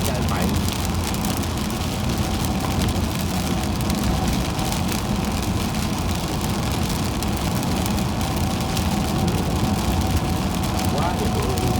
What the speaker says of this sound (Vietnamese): Quá trời mưa luôn